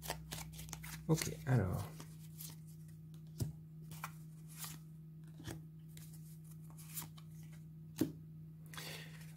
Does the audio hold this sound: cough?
no